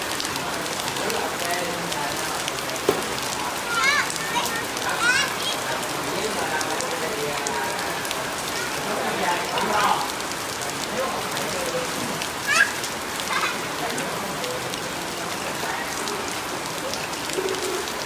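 Steady rain pours down in a countryside setting, a dense continuous hiss of drops on surfaces with occasional louder splashes and faint bird calls.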